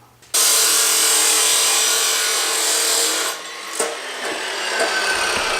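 A power tool bevels the cut end of a metal turbo pipe for an LS swap turbo kit, a loud, close, continuous abrasive grinding that starts abruptly and dips briefly before carrying on.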